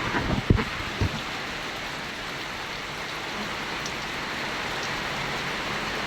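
Steady rain pours down outdoors, a dense continuous patter with a few close drops and knocks at the start, no voices.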